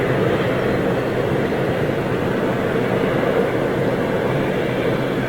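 A TUI airliner departs Manchester Airport for Orlando in freezing fog, its jet engines a loud, continuous broadband roar with no talking.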